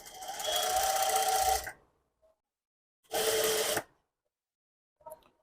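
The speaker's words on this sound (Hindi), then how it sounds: "पहले हम यहाँ पे सीधी सिलाई लगाएंगे बुकरम के ऊपर" A sewing machine runs a straight seam over buckram in two bursts of rapid, even stitching, the first longer, separated by silence, ending with a few faint clicks.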